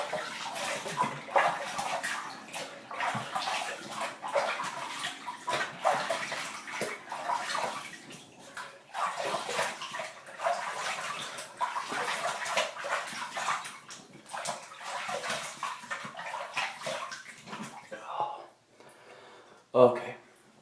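Water from a tap runs and splashes in a sink while someone rinses off after a shave, an uneven close gushing in bursts that lasts most of the time, then thins to a few drips and a final splash.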